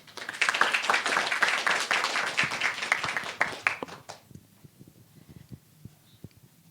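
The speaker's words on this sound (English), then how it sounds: "So please give a round of applause to Dr." A conference audience at a health talk gives a round of applause for the speaker, many hands clapping densely for about four seconds, then thinning into scattered isolated claps that fade out.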